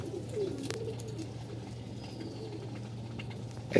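Pigeons in a home loft coo softly and steadily in the background, with a low continuous hum underneath and a brief louder knock near the end.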